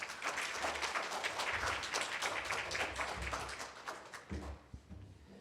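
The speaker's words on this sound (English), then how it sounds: "Let us all give him a round of applause." An audience at an opening reception gives a round of applause, dense steady clapping that swells, holds, then tapers into scattered claps near the end.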